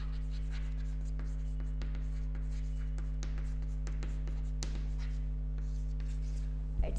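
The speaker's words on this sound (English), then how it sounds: "So just I'll write here its current" Pen or chalk scraping across a board in a series of brisk strokes and taps, close and steady over a constant electrical hum, in an accountancy classroom.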